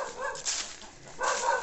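A dog on a rural farm near a marsh gives a couple of short barks and yips, fairly loud and close, with no talking.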